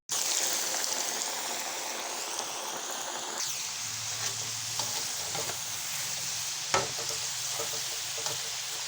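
Homemade potato fries sizzle in hot oil, a loud, continuous bubbling hiss close up that runs for nearly nine seconds with a few faint clinks and no talk.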